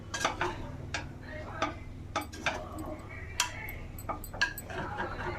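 Chicken fried rice is stirred in a pan, with sharp, irregular clinks and scrapes of a utensil against the metal over a low background hum.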